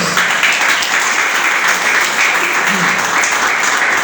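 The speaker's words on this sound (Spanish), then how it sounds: "¿Cuánto un aplauso al Señor por eso?" A church congregation applauds during a sermon, a broad, continuous wash of clapping from a large crowd, loud and even throughout, with a voice faintly present beneath.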